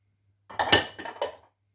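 A spatula knocks and scrapes against a bowl while diced apples are stirred into cake batter, giving three or four close, clinking strokes in quick succession with no talk.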